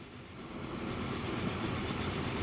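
Steady rumble of a train rolling along in the railway simulation game Transport Fever 2, a continuous mid-level drone with faint rhythmic clatter and no speech.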